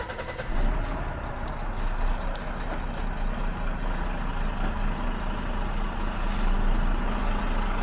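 A truck creeps forward to reposition on a weighbridge. A steady, fairly distant engine drone and road noise run throughout with faint clanks, and no talk is heard.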